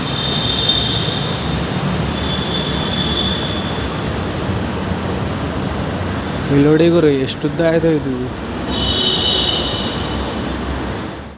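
A Bangalore metro train runs with a steady rumble, wheels squealing in rising and falling tones midway, while someone talks over the noise.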